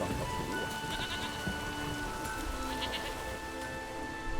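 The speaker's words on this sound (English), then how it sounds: "There's no point standing here in the rain." Rain falling in The Witcher 3: Wild Hunt on Bald Mountain, a soft continuous patter with faint animal bleats and tonal ambient hum underneath, no one speaking.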